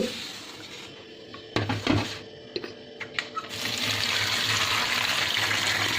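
Water runs and splashes in a basin while potatoes being washed knock and clatter a few times, then the flow of water grows steady and louder.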